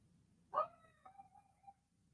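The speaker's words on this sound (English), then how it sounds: "my dogs, they won't stop barking" A dog barks once loudly, followed by a few fainter, shorter yelps or whines trailing off, close by in an otherwise quiet indoor room.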